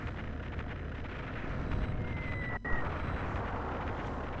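Ship cannon fire in Skies of Arcadia Legends, heard as a steady heavy rumbling roar with a brief dip and a renewed boom partway through.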